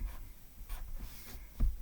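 A pen scratches out alphabet letters on paper in short, soft strokes with brief pauses between letters, close and quiet with no talking.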